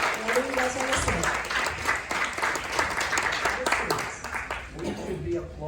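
An audience at a Night of the Living Dead film panel applauds steadily and fairly loudly for the whole stretch, with voices talking over the clapping.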